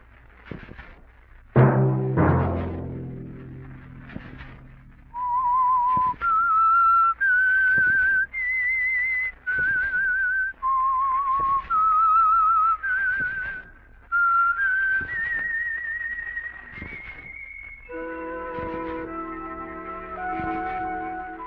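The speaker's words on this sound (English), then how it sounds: "Let that whistle be your signal for the Signal Oil program, The Whistler" Whistled theme of The Whistler radio program: a lone clear melodic whistle of sustained rising and falling notes, preceded by a sharp percussive sting, close and prominent, ending on a brief orchestral chord.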